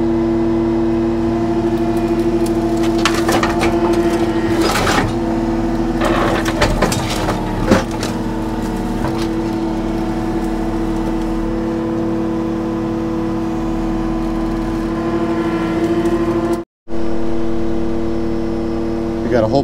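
A skidsteer fitted with a claw grabs and carries a pile of scrap motorcycles on an abandoned farm, its engine droning steadily while metal crunches and scrapes loudly, with a brief dropout near the end.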